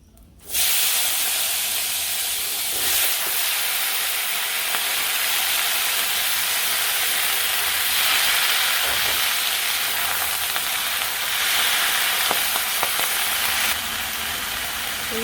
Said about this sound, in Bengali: তেলের মধ্যে জিরা দিয়ে দিই জিরা এসে করছে এখন সবজিগুলো দিয়ে দিই